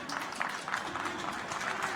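Lille supporters clap at a friendly football match against Stade de Reims, a faint, distant patter of applause rising and falling from the away stand.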